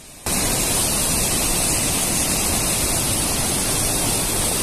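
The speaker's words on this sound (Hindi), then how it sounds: "डैम ओवरफ्लो होने के बाद पानी की निकासी के लिए जब गेट खोला गया तो उसकी आवाज़ सुनिए" Water roars from an opened gate of the overflowing Ramnagar dam on the Kosi river, a loud, steady, dense rush that starts abruptly and holds without a break, with no voices.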